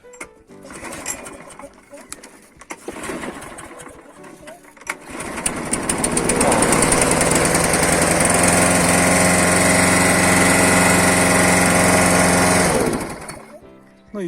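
Petrol lawn mower engine sputtering a few times, then catching and running at a steady loud drone for several seconds before cutting off, with a person speaking over the early attempts.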